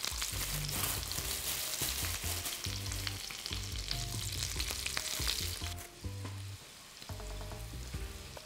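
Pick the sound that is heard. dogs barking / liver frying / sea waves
liver frying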